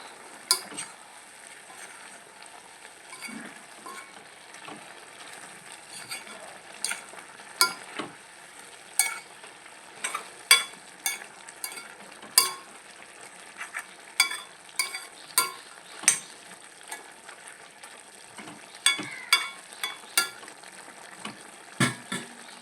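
Chicken stirred in a pan with Kashmiri chili and turmeric, a low steady sizzle punctuated by frequent sharp scrapes and clinks of the spoon against the pan in irregular bursts, close and without talk.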